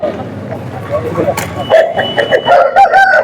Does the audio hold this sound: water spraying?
no